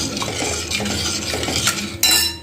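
A spoon stirs ground masala in a pan for palak bhaji, giving close scraping and clinking against the metal with a soft sizzle underneath and a louder clatter near the end.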